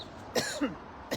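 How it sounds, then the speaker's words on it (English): A couple of soft, close coughs and throat-clearing sounds, quiet and brief, with a short pause between them. "I got a little cough going on"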